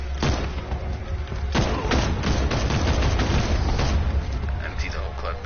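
Gunfire in the video game Batman: Arkham Knight, with dense, continuous shots and crackling impacts over a steady low rumble as a clip is emptied. A person's voice talks faintly within the mix.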